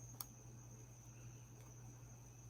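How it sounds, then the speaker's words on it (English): Crickets chirp in a faint, steady high trill that runs unbroken under a low background hum, with one brief click near the start. "Sounds like crickets to me"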